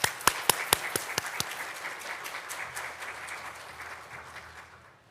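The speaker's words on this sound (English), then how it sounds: "with a round of applause" Audience applause at a Native, Indigenous and Tribal graduation ceremony: a few sharp, separate claps open it, then a steady crowd patter builds and slowly thins to quiet over about five seconds.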